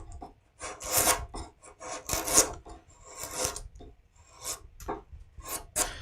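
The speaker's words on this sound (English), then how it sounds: "I'm using skew, and I'm just shaping right now." Close, dry scraping and rasping of a skew chisel shaping a wood carving, coming in irregular bursts of strokes with short pauses between them, no talking.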